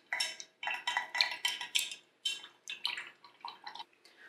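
Repeated scraping and clinking taps of a stirring utensil against a container of wax mixture for a candle, a close and brisk series of short strokes with brief pauses between them.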